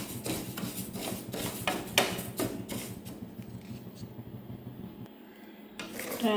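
Ragi is stirred while dry-roasting in a pan, with a spoon scraping and tapping the metal in close, repeated strokes that ease off toward the end, leaving only a faint hiss.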